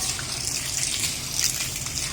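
Water gushes from a tap at a school's public facilities in a steady, close, hissing stream with no break.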